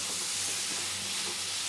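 Steady broadband sizzle of frying in a pan for a wedding-style Bengali chicken korma, a continuous close hiss with faint low stirring underneath and no talking.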